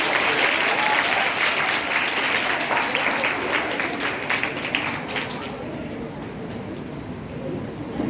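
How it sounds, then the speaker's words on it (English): A stage-show audience applauds after a skit with dense, sustained clapping that stays loud and then eases slightly toward the end. "it deserves another round of applause"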